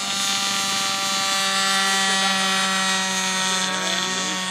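Small piston engine of a radio-controlled model cargo plane at an SAE Aero Design competition, a steady high-pitched buzzing drone with strong harmonics holding loud and close throughout the takeoff run and climb.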